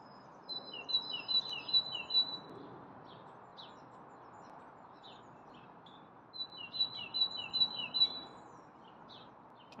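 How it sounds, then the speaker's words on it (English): Birds chirp and trill in two lively bursts in the early morning, over a steady, soft outdoor hiss, with a quieter stretch between them. "You can hear the bird song."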